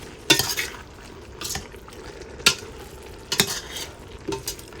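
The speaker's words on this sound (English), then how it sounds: "Stir that around." Spaghetti sauce with wine being stirred in a pan, a spoon scraping and knocking in several uneven strokes over a soft simmering sizzle.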